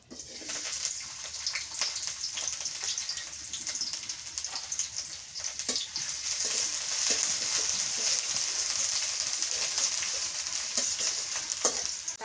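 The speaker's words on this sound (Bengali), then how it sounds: "পেঁয়াজ কুচি দিয়ে দিই" Chopped onion frying in a pan for a hilsa fish curry gives a steady, close, loud sizzling hiss that swells slightly midway, with occasional crackles and spatters and no voices.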